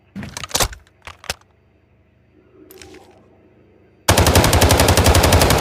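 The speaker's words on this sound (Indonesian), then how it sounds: "Bentar, kita reload dulu." QBZ rifle in the Delta Force video game: a few sharp reload clicks and clacks, a quiet pause, then a loud sustained burst of rapid automatic gunfire.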